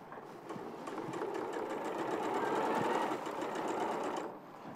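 Sewing machine stitching steadily in a rapid, even rhythm, close and moderately loud, speeding up and then slowing to a stop.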